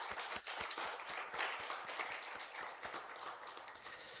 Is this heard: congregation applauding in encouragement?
yes